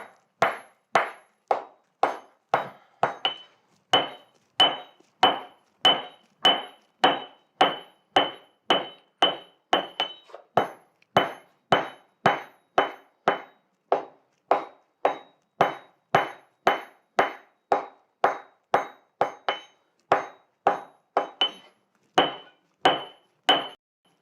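A blacksmith forge-welds iron and steel while making an edge tool, striking with a hammer in a fast, steady run of sharp ringing blows, about two per second, close and loud.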